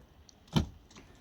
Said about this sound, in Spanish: Cierre con el botón específico y obertura del mismo coche